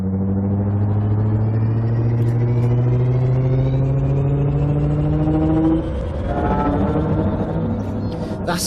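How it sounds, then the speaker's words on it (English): The engine boost of the Cobra MkV spaceship in a video game gives a steady, loud, vibrating rumble with rising tonal hums that shift and stutter near the end, heard alone throughout. "let's have a listen to the engine boost"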